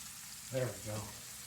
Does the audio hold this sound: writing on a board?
no